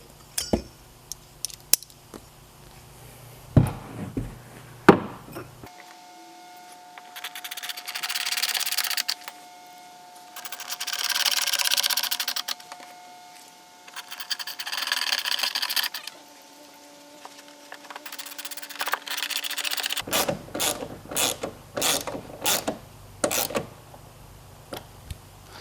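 A ratchet clicks and metal tools tap and clink while torx screws go into a trunk latch on an MK5 Volkswagen Jetta, with sharp close clicks early and late and a steady whirring stretch in the middle.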